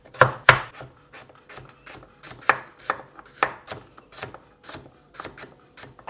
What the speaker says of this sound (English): And I'm going to just chop all of these into small pieces.